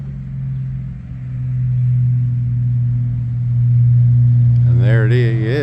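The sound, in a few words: Bombardier snow vehicle driving around the yard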